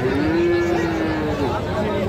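Friesian and crossbred heifer calves at a Thursday cattle market in Ghoraghat, Dinajpur, one lowing in a long, loud moo over the steady crowd noise of the market.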